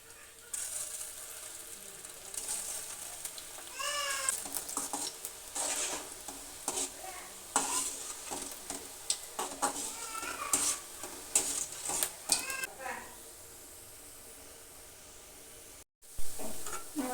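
Food dropped one piece at a time into hot oil fizzes and bubbles steadily in a home kitchen, with scraping and stirring clinks from a utensil close by and a brief cutout near the end.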